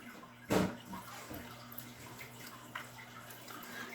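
A brief splash of water dumped out of a gold pan, one short burst followed by faint trickles and drips over a low steady hum.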